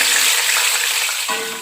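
Tofu pieces sizzling in hot oil in a pan, a dense close crackling hiss with a brief stir or shift of the pieces partway through, steady and loud with no voices.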